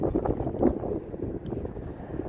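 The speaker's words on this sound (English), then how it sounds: "I didn't know the wind was gonna kick up this much this morning." Strong gusting wind buffets the microphone on a sunny morning walk along Las Vegas Boulevard, a steady low roar rising and falling for the whole stretch, with no talking.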